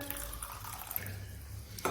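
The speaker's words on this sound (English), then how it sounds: "I am taking 100 ml of beaker and I am adding water" Water is poured into a 100 ml beaker, giving a brief, close, soft trickle and splash that ends in a sharper burst.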